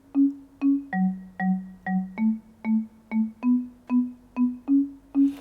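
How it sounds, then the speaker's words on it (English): Low-register African marimba notes struck one at a time in an even, steady rhythm, each wooden tone ringing briefly before the next, a bass line made with Logic Pro stock instruments, clear and alone. "World African marimba. And it plays the low end and it sounds like that."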